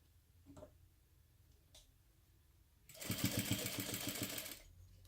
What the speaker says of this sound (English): I'll make sure I back stitch a couple times over the end of the stitches to hold those in place